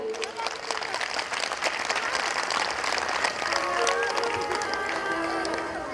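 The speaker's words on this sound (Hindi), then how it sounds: "एक बार जोरदार तालियां बजाइए।" Devotees at the Vighna Vinashini temple gathering break into sustained clapping during a religious discourse, a continuous, fairly soft wash of many hands with voices and sustained tones underneath.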